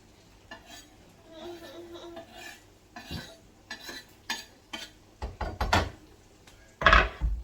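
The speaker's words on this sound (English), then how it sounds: "I'm going to put them in the frying pan with the onion now." Chopped chives go into a frying pan with onion and are stirred, giving soft sizzling with scraping and clattering of a utensil against the pan, growing louder in uneven bursts toward the end.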